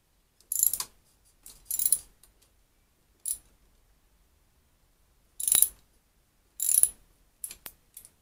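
A ratchet loosens the fork pinch bolts on a Honda Blackbird motorcycle, giving about seven short, crisp clicking bursts separated by quiet pauses, heard close up.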